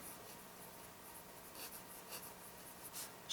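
Vintage Sheaffer Snorkel fountain pen with a firm medium nib writing on paper, a faint, steady scratch with a few soft louder strokes, close and quiet with no talking.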